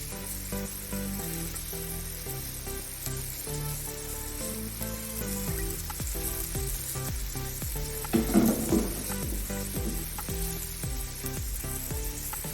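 Floured beef pieces browning in a pan for a beef vegetable stew, giving a steady, close sizzle that runs throughout, with a tonal background underneath and a brief louder crackle near the end.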